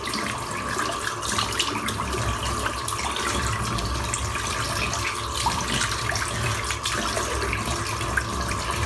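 Tap water runs steadily and loudly into a tub to rinse alum off skin after a head shave, a continuous close splashing rush with no talk.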